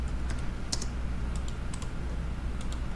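Quick, light clicks of typing on a computer keyboard, close and steady, with a few sharper key strikes and no voices.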